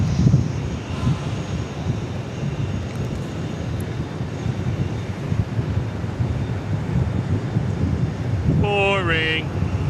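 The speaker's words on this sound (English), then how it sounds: "We are Southwest 2757 from Midway to Dallas on a MAX 8." A Southwest Boeing 737 MAX 8 airliner lands at Dallas Love Field, heard as a loud, continuous jet roar with wind buffeting over about ten seconds, and a brief whistle-like tone near the end.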